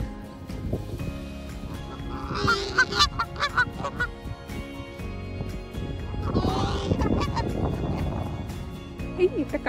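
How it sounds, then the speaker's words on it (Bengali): Geese honk and squabble at a park lake in the UK, loud and close with repeated bursts of honking, while people talk nearby. "হাঁসগুলো ঝগড়া করতেছে কেন?"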